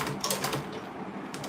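A sewing machine stitches a leather mini tote bag, a fast close rattling clatter of needle strokes running continuously through the short stretch with no voices.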